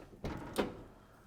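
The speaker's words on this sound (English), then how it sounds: "open the door," A door on a MIWE go baking oven is opened, giving a short latch click and then a soft swinging whoosh with a thud, heard close and alone in a quiet room.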